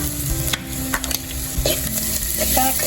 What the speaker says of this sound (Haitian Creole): Là m'a frit les oignons, m'a piqué le petit à 2 minutes avant mon poivron.